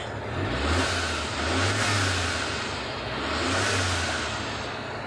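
A car engine revs hard as the accelerator is pressed during an alternator and belt check, rising in two loud surges with a steady mechanical drone underneath, no talking.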